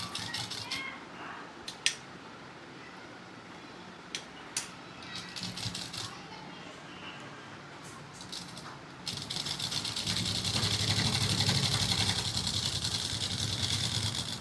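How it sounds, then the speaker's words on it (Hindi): A sewing machine stitches a strip onto a kurti, starting after a few light handling clicks and then running steadily and fairly loud for several seconds, with no talk over it. "ऐसे ही हम इस वाली साइड में भी इस पट्टी को बाहर रखेंगे और आधा इंच दबा के सिलाई लगा देंगे।"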